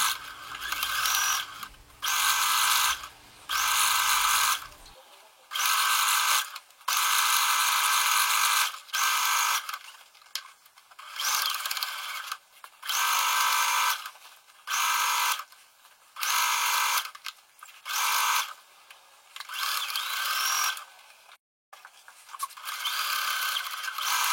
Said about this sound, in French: On réalise une couture à 1 cm du bord sur toute la longueur de l'entrejambe.